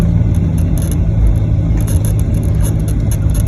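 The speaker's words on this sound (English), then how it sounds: "It's the infamous Ryanair landing" Loud, steady low roar of a Ryanair Boeing 737-800 airliner landing, heard from inside the cabin as a continuous rumbling engine and airframe drone with broadband rushing noise.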